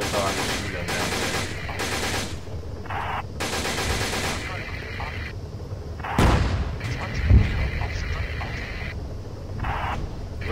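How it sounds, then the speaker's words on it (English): Machine gun fire in the Arma 3 game during a WW2 village assault, with several long rattling bursts broken by pauses, then a heavier thud and distant shots, under faint radio-like talk. "Start shooting with our machine gun down there."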